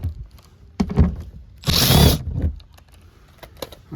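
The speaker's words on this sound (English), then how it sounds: "So I got my 10mm socket. Remove these bolts." A 10mm socket works bolts loose on a Toyota Venza: scattered clicks and clunks, then a brief burst of rapid ratcheting near the middle, followed by lighter taps and knocks close by.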